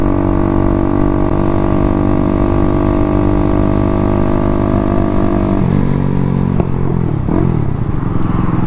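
A 212cc Grom clone motorcycle engine lugs at low revs in fifth gear, a loud, steady close-up drone with dense low harmonics, then sagging and popping unevenly near the end.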